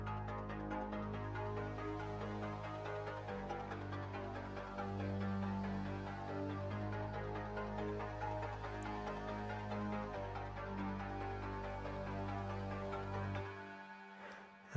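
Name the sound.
music track made in FL Studio with detuned chord layers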